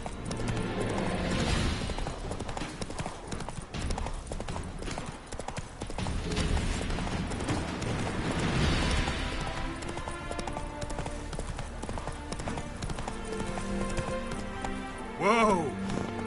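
The horse Roach galloping in The Witcher 3 video game, with loud, continuous rhythmic hoofbeats and a background score, followed by a short whinny near the end.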